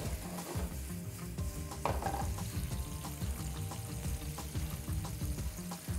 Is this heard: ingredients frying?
yes